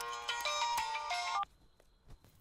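A Chinese mobile phone ringtone plays a bright electronic melody for about a second and a half, then cuts off abruptly, leaving quiet room noise.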